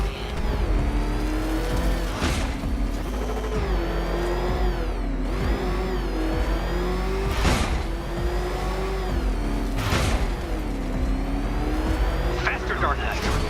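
Batmobile in Batman: Arkham Knight drives and revs hard, its engine pitch rising and falling continuously across laps with bursts of acceleration and a few tire squeals, while voices talk over it throughout.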